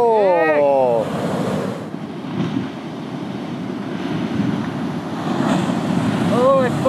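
Ocean surf breaking along a Southern California surf break, a steady broadband wash under loud wind buffeting the microphone, with people shouting and talking excitedly at the start and end.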